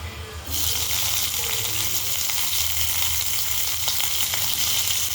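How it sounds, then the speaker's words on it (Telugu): Pieces fry in oil on a stove, the sizzle jumping up sharply as they go in and then holding as a steady, close hiss with small crackles. "పక్క స్టవ్ మీద మెత్తలు ఒకసారి వేగించుకుందామండి"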